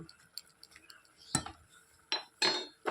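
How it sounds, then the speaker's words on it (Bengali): A lid is set on a pan of oil-free Rajbanshi cheka with drumstick leaves and taro leaves, giving a few close metallic clinks and taps, the sharpest pair near the end. "এটাকে একটু ঢেকে দিই"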